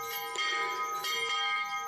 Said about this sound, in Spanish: La campana anuncia el lugar aproximado donde se asentó la primera comunidad